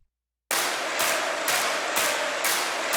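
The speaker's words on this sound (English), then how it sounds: "So it's like a stadium sound" Within a K-pop production, a dense roar of a stadium crowd sample, unprocessed, comes in abruptly after a brief silence and holds steady, with a rhythmic pulsing swell roughly every half second.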